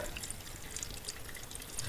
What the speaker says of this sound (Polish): Zalewam gotowaną letnią wodą pod wierzch słoja, tak żeby u góry zmieścił się chleb.